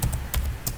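Keystrokes on a computer keyboard while entering a view name in ArchiCAD architecture software, a few distinct close taps spaced irregularly, alone without talk.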